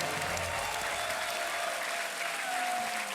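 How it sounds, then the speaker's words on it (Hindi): Studio audience applause on the Hindi quiz show Kaun Banega Crorepati, steady dense clapping filling the whole stretch at even loudness, close and continuous with no speech over it. "तालियां बजता इनके लिए"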